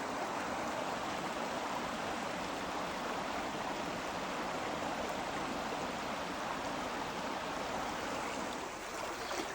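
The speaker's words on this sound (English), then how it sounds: "the creek's going to open up pretty nice and be pretty wide and flow pretty good" A winter creek flows in a steady, full rushing wash of water, close and constant with no pauses or voices.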